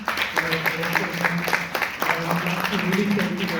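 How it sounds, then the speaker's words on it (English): Audience applause for a corporate management team at a staff gathering, steady clapping for several seconds with voices and a low hum mixed beneath. "Please give them a round of applause."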